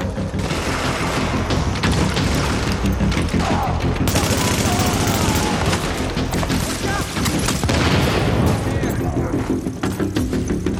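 Gunfire in The Division video game, dense and continuous with booms and mechanical clatter, loud throughout a busy firefight, with speech mixed into the noise.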